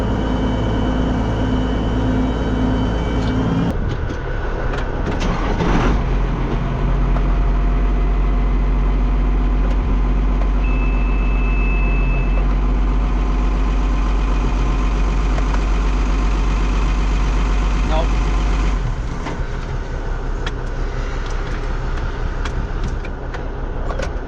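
A Kenworth truck engine idles steadily at close range, a loud continuous rumble with a slight change in its tone partway through and no talk.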